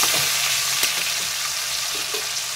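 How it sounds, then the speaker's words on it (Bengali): Pomfret mustard curry with five green chillies and tomatoes being gently stirred in a pan, giving a steady close sizzle with soft scraping strokes of the spoon and no voices. "একটু হালকা নাড়াচাড়া করে নিচ্ছি।"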